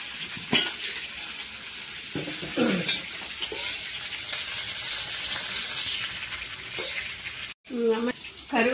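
Green chillies and curry leaves fry in a little oil, giving a steady, close sizzle that runs for several seconds, broken by a few stirring clinks, while someone speaks over it.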